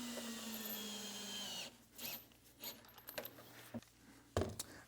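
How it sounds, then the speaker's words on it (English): A power drill drives lag screws into a wooden patio planter and trellis, giving a few short, close bursts of whirring and clacking after a brief high metallic ring, with no voices. "And then it's a simple matter of installing some leg screws."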